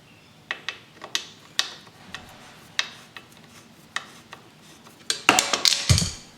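A stock YZ125 rear brake lever being threaded into place on a two-stroke dirt bike, giving a series of close, sharp metallic clicks and ticks spaced about a second apart, then a louder flurry of clattering metal.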